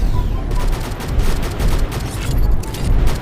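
Rapid, dense gunfire crackles continuously in a shooting video game, loud volleys of shots overlapping into a steady fusillade with heavier bursts throughout.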